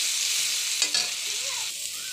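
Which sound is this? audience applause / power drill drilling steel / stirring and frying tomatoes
stirring and frying tomatoes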